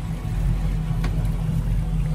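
A motorboat engine runs with a steady low drone and slight rhythmic throbbing, close and loud, on a lake trip on Ladoga.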